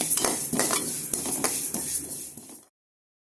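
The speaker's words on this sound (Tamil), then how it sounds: "வெறும் வானலில் எள்ளு போட்டு நல்லா பொரியணும்" Sesame seeds roast in a dry pan, a spoon scraping and stirring them in repeated strokes with a light crackle and metallic clinks, close and fairly loud, before a sudden cut to silence.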